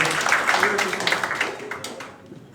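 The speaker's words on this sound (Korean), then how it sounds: "큰 박수 보내드리겠습니다" A hall audience at the 13th Jeonnam Youth History Inquiry Contest applauds after a student presentation. The dense clapping is steady and fairly loud, with voices mixed in, and it thins out toward the end.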